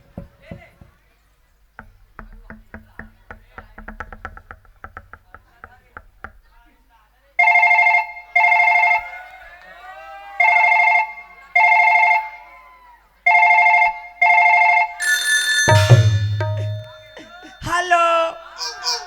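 A mobile phone rings loudly in repeated bursts of an electronic ringtone during a Chhattisgarhi nacha gammat folk theatre performance, following clattering noises, with a voice and other sounds near the end.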